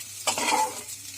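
Dry daliya (broken wheat) with dry fruits being stirred and fried in a pan at home, giving a soft sizzle with scraping stir strokes, a burst of louder stirring near the start then quieter frying.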